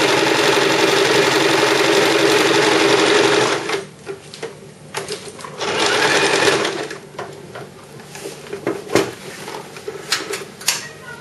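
A sewing machine stitches a flamenco-style party bag, running in a loud, continuous mechanical whir for several seconds, then stopping and restarting in short bursts with clicks and handling noises in between.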